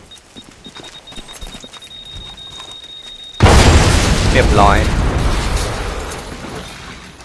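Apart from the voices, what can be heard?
bomb exploding at a door in video game Hitman Absolution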